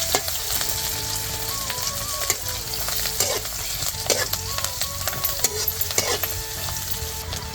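Coriander and turmeric are sautéed in a pan, giving a steady crackling sizzle close by. Repeated scraping strokes and faint clinks of a utensil against the pan mark the stirring, and there is no talking.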